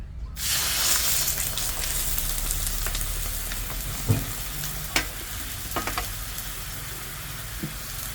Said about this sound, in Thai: แล้วก็เอาใบพายหมูลงไป รวนก่อนนะคะ